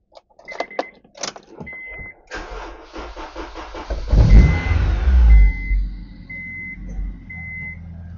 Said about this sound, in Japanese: では、エンジンをかけてみたいと思います。